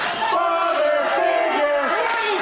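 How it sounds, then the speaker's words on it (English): A wrestling crowd at an NYCW show chants in unison for a tag team match, a loud, rhythmic mass of voices rising and falling in a sing-song cadence. "a nice father figure chant erupting from the NYCW crowd here"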